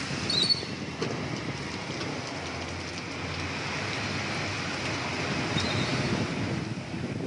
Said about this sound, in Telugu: హైదరాబాద్, సికింద్రాబాద్ లోను పెను గాలులతో కూడిన భారీ వర్షం కురిసింది